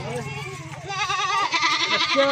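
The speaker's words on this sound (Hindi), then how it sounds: "ये गब्बन बकरी है" Goat bleats loudly and repeatedly at close range while being loaded for cargo at a goat farm, wavering cries overlapping with background voices and farm noise.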